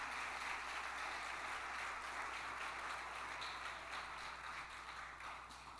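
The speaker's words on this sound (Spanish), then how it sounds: "déle vuelta de palmas, Señor" A church congregation applauds together, dense continuous clapping heard from a distance that holds steady and slowly fades toward the end.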